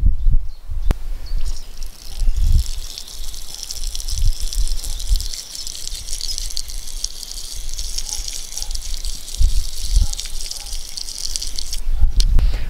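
Running water splashes and gushes continuously as a freshly dug-up garden vegetable is rinsed, with drips and occasional bumps close by and no voices over the steady flow.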